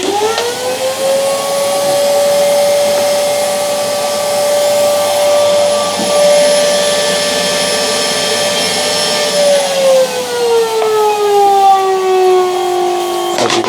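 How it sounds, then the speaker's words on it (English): A vacuum cleaner, its hose sealed into a nozzle for a track-ballasting tool, runs steadily at maximum suction, a loud continuous whine that holds its pitch before dropping lower near the end. "Right, I'm going to switch on the vacuum now"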